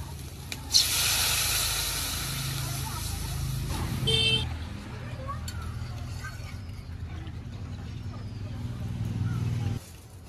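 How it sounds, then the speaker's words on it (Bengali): Water hits a hot pan of fried kohlrabi and potatoes with a sharp hiss and steady sizzle. A clatter follows, then a quieter bubbling simmer that runs on for several seconds. "এবার দিয়ে দেব পরিমাণ মতো জল"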